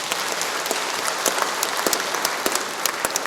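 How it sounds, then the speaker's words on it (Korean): An audience at a Bareun Salgi Movement lecture claps steadily, dense applause filling the short stretch at an even level with sharp individual claps standing out. "계룡시 협의회 회원님께 박수 한번 부탁드리겠습니다"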